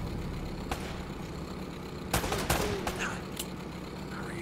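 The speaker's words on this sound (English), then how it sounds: "Less talking, more shooting!" Gunfire during a firefight in Uncharted: Drake's Fortune: scattered sharp shots crack over a steady, rumbling background noise, with a tight cluster of bursts in the middle and a few isolated shots before and after.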